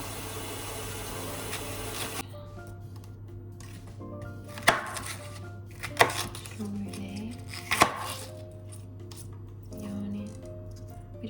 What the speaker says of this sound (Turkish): Böyle yiyebileceğim şekilde doğrayacağım.